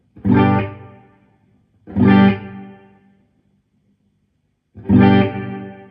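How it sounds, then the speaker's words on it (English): Three loud strummed electric guitar chords, each ringing out and decaying slowly in a long reverb tail, separated by brief quiet gaps. "That means that it's going to be a longer reverb."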